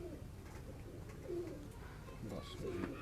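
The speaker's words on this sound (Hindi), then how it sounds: "इधर कामयाब वही थे मुश्ताक वाले कबूतर" Pigeons coo softly at close range, several short rolling coos in quick succession over faint background noise.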